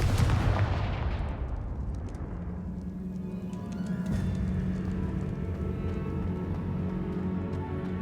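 In Hogwarts Legacy, a Confringo spell blast lands as a loud burst that booms and rumbles, then fades into a lower sustained rumble and tonal hum, with no speech.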